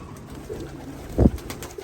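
Faint soft cooing of racing pigeons murmurs in the background, with one brief louder thump near the middle.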